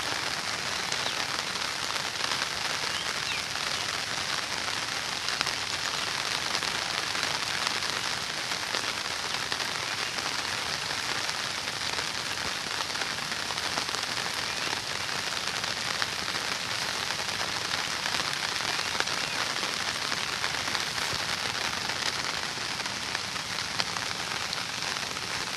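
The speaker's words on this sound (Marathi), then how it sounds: "आणि इकडे पाऊस पण सुरू झाला आहे बघा परत." Steady stormy rain pours down in the Konkan countryside, a dense, even hiss of drops hitting the ground that continues unbroken, fairly loud and close, with no voices.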